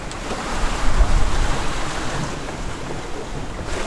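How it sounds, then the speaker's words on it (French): Strong wind and heavy waves on a sailboat crossing the Atlantic from Portugal toward the Canaries, a continuous roaring wash of water and gusts, loud and close, with a heavier surge near the start and no voices. "Trop de vent et trop de vagues pour le pilote qui est en train de mourir"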